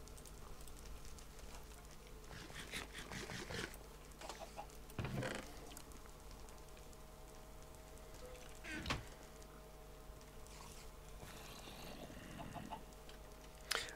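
A Minecraft chicken clucks in short, scattered bursts over a steady game background hum, with several brief calls across the stretch and no talk.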